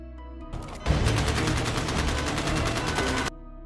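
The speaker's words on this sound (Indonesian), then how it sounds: "terjadilah baku tembak antara polisi dan anak buah Lloyd" Gunfire rings out in a film shootout between police and a gang, a dense sustained burst of rapid shots that starts abruptly, rattles on loudly for over two seconds and cuts off.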